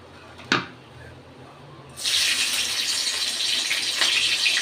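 Green chillies dropped into hot oil in a kadai: one short knock comes first, then a loud, steady hissing sizzle bursts in and keeps going with no talking.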